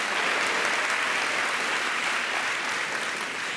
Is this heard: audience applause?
yes